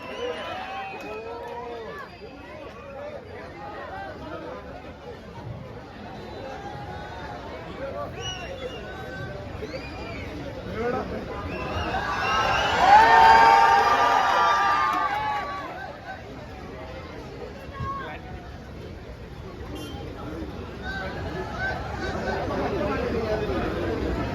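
A crowd at an Onam celebration in Uzhavoor swells into applause and cheering for actor Dileep, the clapping rising for a few seconds over steady chatter and voices, then easing back into crowd murmur.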